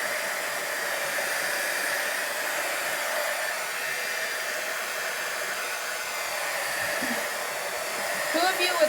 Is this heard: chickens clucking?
no